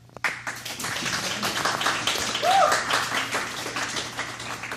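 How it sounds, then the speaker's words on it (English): An audience of teen parents at a motivational talk gives a round of applause, a steady, moderate patter of many hands clapping together that holds for several seconds with no one speaking. "I want you to give yourself a hand clap"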